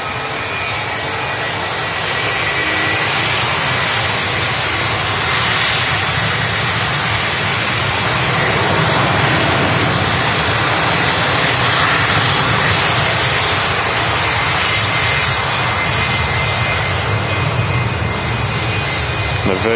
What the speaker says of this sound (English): The Virgin Atlantic blasting off on the south side to Orlando.